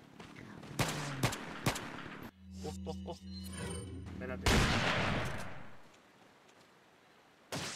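Gunfire in the video game Resident Evil 4 comes as several sharp, loud shots in quick succession, mixed with game sounds, while someone speaks briefly between the shots.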